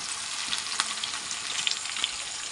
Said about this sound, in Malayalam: കുറച്ച് കറിവേപ്പിലയും കൂടെ ഇട്ട് കൊടുത്തിട്ട് ഞാനിത് അങ്ങോട്ട് പൊരിക്കാൻ തുടങ്ങുകയാണ്.